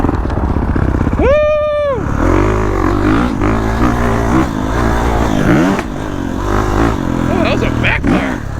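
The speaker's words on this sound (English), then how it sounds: "Oh, that was a backfire. I've never heard this bike backfire ever." A pit bike engine revs hard in one rising and falling sweep, then idles and burbles roughly under loud, excited voices talking and shouting nearby.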